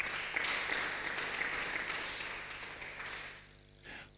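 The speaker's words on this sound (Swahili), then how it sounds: "Hebu mpigie Yesu makofi mazuri kabisa." A church congregation at a Swahili sermon gives a hearty round of applause, a dense burst of clapping that stays strong and then tapers off near the end.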